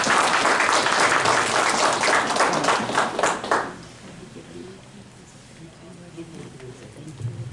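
Audience applause in a talk or seminar room, dense and steady for about three and a half seconds before cutting off, followed by quiet room sound and a few faint voices.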